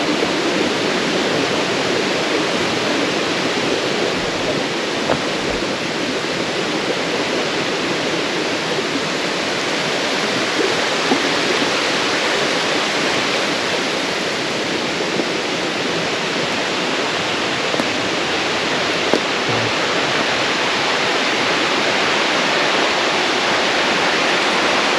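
Continuous rushing water of a creek, steady and close, a full broadband wash with no voices.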